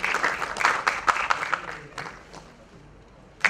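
Applause welcomes a government minister at an award ceremony: a crowd claps in a scattered burst that thins out and fades, with a few sharp individual claps standing out before it dies away.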